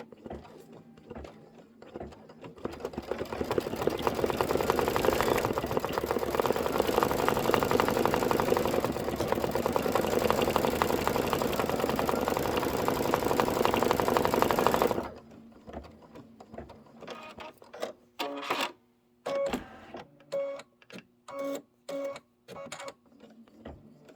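An embroidery sewing machine runs without stitching, giving a loud, dense mechanical whir close by that holds steady for about twelve seconds, then cuts off into a scatter of separate clicks and short bursts.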